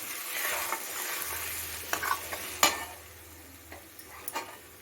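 A spoon stirs egg podimas, Tamil-style scrambled eggs, in a hot pan, giving a soft sizzle with several sharp scraping strokes, close and without talk.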